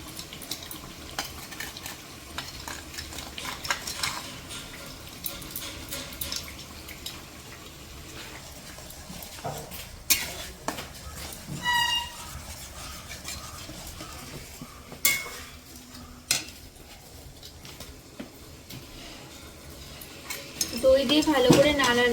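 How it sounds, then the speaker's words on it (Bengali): Yogurt being stirred into a biryani mixture in a pot over a clay stove, with a spoon scraping and clinking against the vessel in irregular strokes over a low sizzle, a few louder knocks near the end. "দই দিয়ে ভালো করে নাড়ালাম।"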